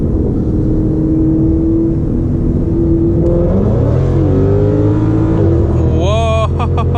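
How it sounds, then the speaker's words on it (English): Supercharged Ford Mustang GT pulling hard from about 40 mph, engine note climbing steadily as it downshifts and accelerates, loud and close with rising harmonics and a whine near the end. "we're gonna try a 40 little pull real quick"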